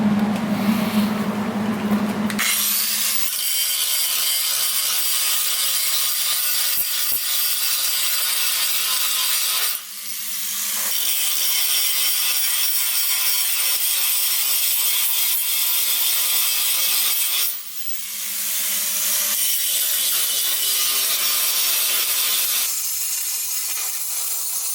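A loud, harsh abrasive grinder works down welds on a metal welding cart, running almost continuously, broken by two brief pauses, close and dominating.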